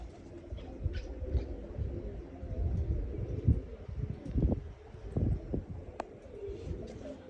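Pigeons, some of them water pigeons, flutter and coo faintly amid a busy outdoor scene with scattered knocks and rustles, no clear voices.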